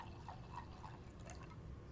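Wine poured into a glass at a tasting, a faint trickling and dripping of liquid with a few soft gurgling bursts over roughly two seconds, set against a quiet room hiss with no voices.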